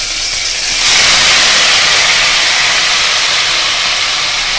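Oil for frying dried fish in a pan hisses loudly, jumping up after the first second into a dense, continuous sizzle that holds steady close by, with no talking.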